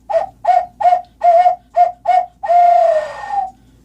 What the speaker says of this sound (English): This one's the hoot owl call, and there's two different ways to use it.